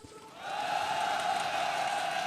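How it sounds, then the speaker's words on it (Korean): A crowd of workers at a Hyundai Heavy Industries union rally lets out a big sustained shout that swells up after a quiet moment and holds steady, loud and massed. "큰 함성 시작!"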